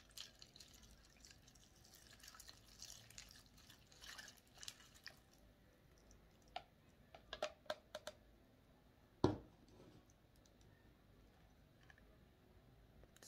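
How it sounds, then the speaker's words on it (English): Soaked soap liquid strained through a funnel, faint trickling at first, then sparse scattered drips and one louder splash, quiet and close with no talking. "We'll take a funnel and we'll strain it."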